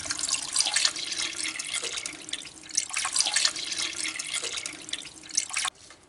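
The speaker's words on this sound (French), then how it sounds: "je vais mettre de l'eau froide" Cold tap water runs steadily into a cooking pot holding veal for blanquette, a continuous splashing hiss with slight surges that cuts off abruptly near the end.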